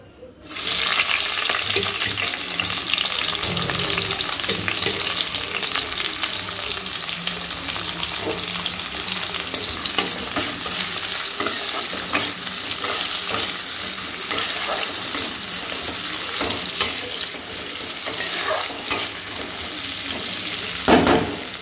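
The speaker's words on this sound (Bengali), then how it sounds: "এবার পেঁয়াজগুলো একটু ভাজা করে নেব।" Chopped onions fry with cumin seeds in hot oil for fried rice, a close, constant sizzle broken by scraping stirs and occasional clatters, with no one speaking.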